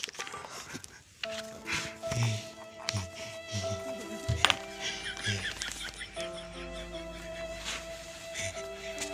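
A dog whimpers and pants with a few short yips, fairly close, mixed under steady tonal background music and other busy household noise.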